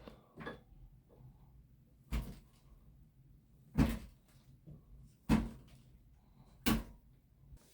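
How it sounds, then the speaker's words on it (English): Knocks on an electric sit-stand desk, five sharp woody raps spaced irregularly over several seconds, close and fairly loud with a low hum between them. "I'm gonna knock the table."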